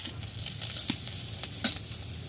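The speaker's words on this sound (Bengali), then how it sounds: "কড়াটা আমার গরম হয়ে গিয়েছে, আমি এবার সর্ষের তেল দিচ্ছি। এর মধ্যে পেঁয়াজ দিয়ে দিলাম" Onions frying in mustard oil in a hot kadai, a steady close sizzle with scattered crackles and small pops over about two seconds, no voices.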